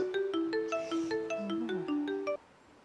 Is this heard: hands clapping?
no